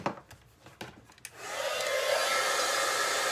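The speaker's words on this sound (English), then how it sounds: "Grab my heat tool." Heat tool blowing hot air onto white embossing powder on a card, a steady close whooshing roar that starts after a few soft clicks and handling taps and continues evenly to the end.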